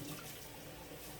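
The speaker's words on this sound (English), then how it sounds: "I'm going to add water to the pot so that it can make a stock" Water runs steadily into a cooking pot to make a stock for chicken mole, a faint, continuous splashing rush with no breaks.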